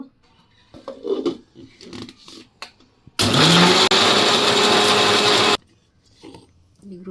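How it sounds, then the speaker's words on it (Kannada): A mixer grinder whirs loudly for a few seconds in one burst, grinding spice powder with a little water, with someone talking before and after it. "ಸ್ವಲ್ಪ ನೀರು ಹಾಕ್ಕೊಂಡು ರುಬ್ಕೊಳ್ಳೋಣ"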